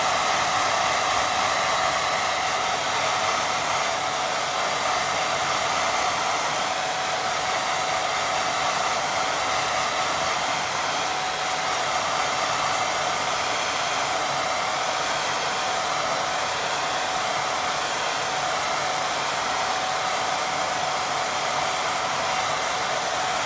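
A hair dryer blows steadily on a watercolour painting to dry it, a loud, even, continuous whooshing hum that holds without pause for over twenty seconds.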